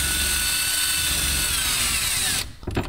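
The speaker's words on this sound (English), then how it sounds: "I'm about to drill into these face pieces." Power drill boring into wooden kitchen cabinet face pieces, a loud, steady high whine lasting over two seconds before it cuts off, followed by a few brief clunks.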